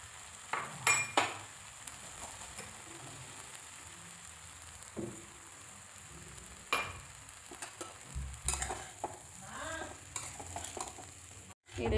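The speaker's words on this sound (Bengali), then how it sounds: "এই দেখুন চিনিটা মিশিয়ে দিচ্ছি" Sugar being stirred into a mango pickle mixture, with quiet scraping strokes and occasional spoon clinks against the pot over faint background hiss, no one talking.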